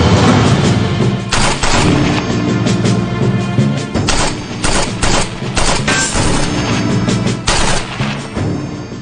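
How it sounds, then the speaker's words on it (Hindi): Sustained gunfire in a TV drama scene, with loud bursts of rapid shots and booming reports that keep going almost without pause, close and dominant throughout. "प्लीज फायरिंग बंद करो ताकि हम लोग बात कर सकें।"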